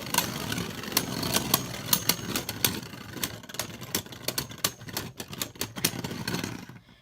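Hand-spun Beyblade Burst tops, including Drain Fafnir, clashing in a stadium: rapid irregular sharp clicks and scrapes over a continuous whirring rattle, close and busy, fading out at the end.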